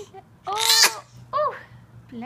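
A baby lets out a sharp sneeze amid soft infant whimpers and vocal sounds, with an adult voice cooing nearby at close range.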